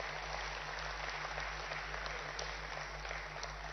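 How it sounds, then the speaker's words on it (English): Faint, distant applause from a business audience at a ministerial talk on electric mobility and jobs, a steady wash of clapping under a constant electrical hum. "I think she deserves a bigger round of applause"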